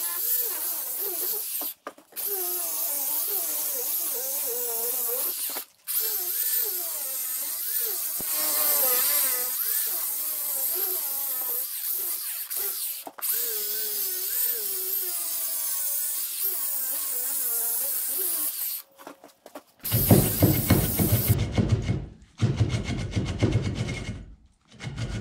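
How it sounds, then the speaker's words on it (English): An angle grinder cuts into a concrete block with a loud, harsh whine that rises and wavers through several long passes, broken by short pauses, before a rougher, gritty grinding at the end. "we can go over there and cut that block out. So I'll go get my grinder"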